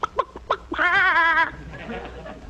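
A person voices a few quick clucks and then a wavering, drawn-out call in imitation of a chicken, followed by softer noise, in an old comedy radio routine.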